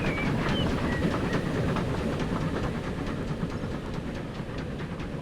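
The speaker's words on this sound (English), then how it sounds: "Here comes a train" A train climbs a very steep incline in Transport Fever 2, with a steady, loud rumble of rolling wagons and faint rhythmic clatter of wheels on rail throughout, alone and without talk.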